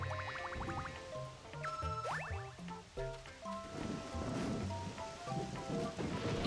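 Rain and thunder from forming rain clouds in Super Mario Galaxy, steady rainfall with rumbling thunder beneath a bright plucked and chiming game melody.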